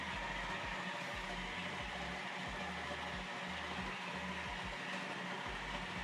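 A milk frother gives a steady, loud whirring drone with a rough, buzzing texture that runs continuously without pause.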